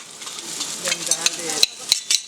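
Onion frying and being stirred in a pan for minced pork with Thai basil: a sizzling hiss with scraping stirs and a few sharp utensil clinks toward the end, close and moderately loud.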